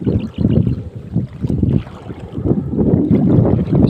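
Strong wind buffets the microphone while fishing, in heavy low rumbling gusts that rise and fall continuously, with no voices.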